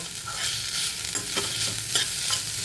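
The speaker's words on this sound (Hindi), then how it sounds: "ये अच्छे से भून जाएगा, प्याज ब्राउन हो जाएंगे" Continuous sizzling of crushed ginger, garlic and green chili frying with onions in hot oil, with occasional scraping stirs of a spoon against the pan.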